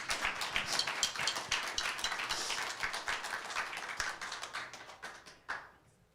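A concert audience at a world stage concert series claps warmly, the crowded applause holding steady before thinning into a few scattered claps and fading to near silence at the end.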